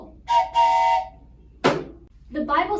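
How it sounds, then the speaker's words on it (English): A train whistle sound effect blows two steam-whistle toots, followed by a sharp falling burst and another whistle-like blast, loud and close in a children's Rocky Railway program. "pull the whistle"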